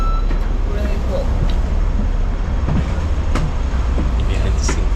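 Train ride in Hong Kong, a steady loud rumble and rattle of carriages on rails filling the background while people talk over it.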